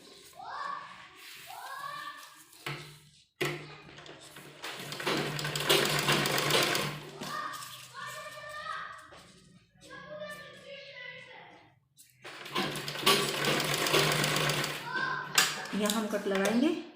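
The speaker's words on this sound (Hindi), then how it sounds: "अब सबसे पहले हम इस पर कच्ची सिलाई लगाएंगे" A sewing machine runs a loose basting stitch around a kurti neckline, whirring in two long steady bursts broken by pauses, close and loud, while someone talks in Hindi through the quieter gaps.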